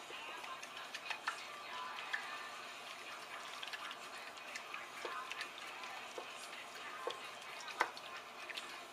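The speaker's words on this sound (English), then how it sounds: "I'm stirring roughly" A wooden spoon stirs mitarashi dango sauce in a pot with soft continuous swishing and faint scattered taps against the sides, fairly quiet and steady throughout.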